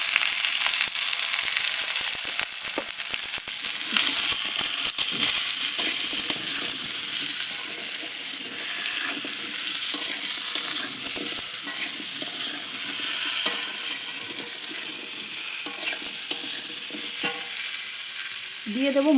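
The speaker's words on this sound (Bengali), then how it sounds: "দিয়ে একটু ভালোভাবে কষিয়ে নেব" Salt, turmeric, ground cumin, ginger, coriander and chilli paste sizzle steadily in a hot pan while being stirred, a dense crackling hiss with scraping stir sounds throughout.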